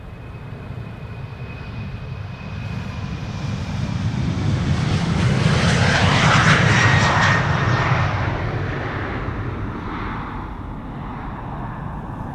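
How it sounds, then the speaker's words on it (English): Embraer 195 long-range jet departing Amsterdam Schiphol, its engine roar swelling to a peak midway and then fading as it climbs away, heard alone with no talk. "Regular Embraer 195 long range, registration SERST, S-E-R-S-T, 14 years old"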